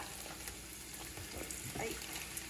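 A pre-warmed tortilla fries and browns in a pan for chilaquiles rancheros, giving a soft, steady sizzle with light crackles throughout.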